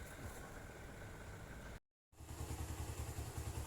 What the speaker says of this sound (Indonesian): Oke, sekarang kita tes nyala ya motornya.